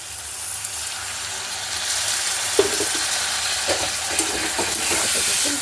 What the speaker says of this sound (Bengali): এবার দেবো একটুখানি গরম জল